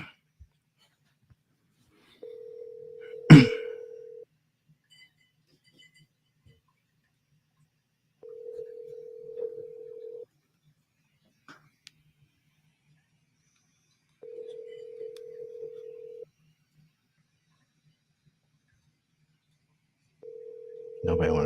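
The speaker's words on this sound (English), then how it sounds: "Nobody want to pick up the phone now." A telephone call goes unanswered, its ringback tone sounding in steady repeated bursts with long silent gaps between them, with a sharp click near the start and at the end.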